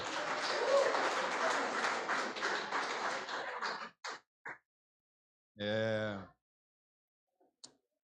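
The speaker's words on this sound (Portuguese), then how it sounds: "Irmãos, você pode aplaudir o Senhor pela vida dessas mulheres?" A church congregation claps for about four seconds, dense and fairly close, then stops abruptly; a few stray claps and a brief spoken voice follow in the quiet.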